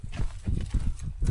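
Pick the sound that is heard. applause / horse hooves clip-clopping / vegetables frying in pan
horse hooves clip-clopping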